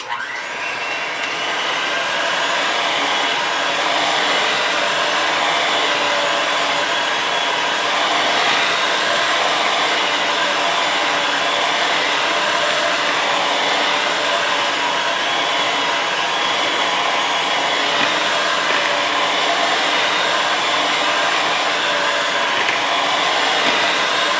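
An electric mixer beats chocolate cookie dough in a bowl, with a loud, close, continuous motor whir that holds steady for the whole stretch.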